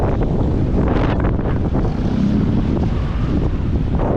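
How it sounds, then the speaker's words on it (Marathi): Strong wind at sea buffeting a fishing boat in big waves with its engine running, a loud, constant roar of wind blasting the microphone with gusty surges, and no talking. "जोराचा वारा सुरू झाला आहे आणि त्याच्यामध्ये बघ खांदा ओढतोय"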